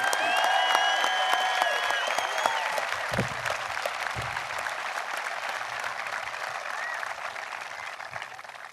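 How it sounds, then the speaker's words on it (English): An audience applauds graduates at a Metamora Township High School graduation ceremony, a broad wash of clapping that is loudest at the start and slowly thins over several seconds, with a few faint voices and tones in the background. "How about a round of applause for our graduates?"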